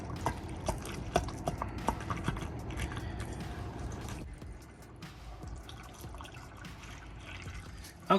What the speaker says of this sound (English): I'm going to just pour this in here.